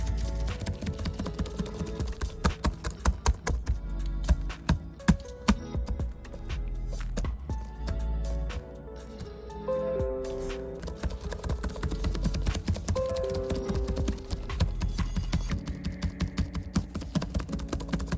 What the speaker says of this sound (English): I'm being very rough with the keyboard to see if anything will break